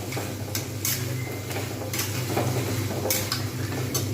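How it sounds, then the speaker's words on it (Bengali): Fried bori lentil dumplings stirred into hot oil with spices in a pan while making a cauliflower, potato and pea curry: a steady sizzle with scraping spoon strokes against the pan at an irregular pace, close and fairly loud. "এবার আমি এর মধ্যে দিয়ে দেবো বড়ি ভেজে রাখা।"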